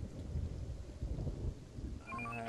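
Rain and rolling thunder ambience in the zombie survival strategy game Infection Free Zone, a low rumbling wash with steady rain hiss, fairly quiet, with a few brief tonal game interface chimes near the end.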